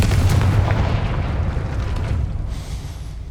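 A Confringo blast spell in Hogwarts Legacy explodes in a loud, booming burst, with a heavy rumble that rolls on and fades away over a few seconds.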